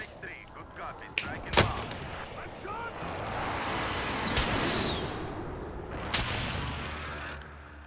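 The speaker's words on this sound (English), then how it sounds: "I threw an airstrike on him." Sharp, loud blasts and gunfire from a Call of Duty Warzone airstrike crack through a firefight, with a couple of sudden impacts and a rumbling stretch between them, under excited players' voices talking.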